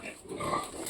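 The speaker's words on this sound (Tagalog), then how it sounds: "ililipat na natin si Jade para mawalay na yung mga biik niya" A sow being moved from a farrowing pen to a gestating pen gives a brief close grunt, under a second long, with no speech.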